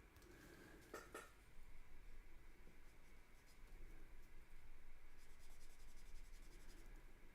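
Pencil drawing on paper during portrait practice, a soft continuous scratchy scraping that runs steadily at close range, with a pair of brief clicks near the start and no talking.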